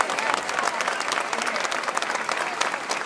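Steady applause from a crowd at a village tribute event in Sillobre, with a dance orchestra present; dense, continuous clapping at even loudness throughout, with a few voices mixed in.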